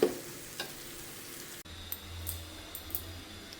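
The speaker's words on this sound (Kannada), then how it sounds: "ಒಂದೆರಡು ನಿಮಿಷ ಹಾಗೆ ಫ್ರೈ ಮಾಡಿಕೊಂಡ್ರೆ ಈರುಳ್ಳಿ ಗೊಜ್ಜು ರೆಡಿ ಆಗುತ್ತೆ" A pan of onion gojju, a Karnataka onion relish, frying on the stove: a quiet, steady sizzle with a few soft clicks and light stirring taps, heard close and alone.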